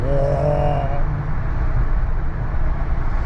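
A Daihatsu Mira kei car drives along with a continuous low road and engine rumble, a muffled voice-like tone heard faintly at the very start before the steady driving noise carries on alone.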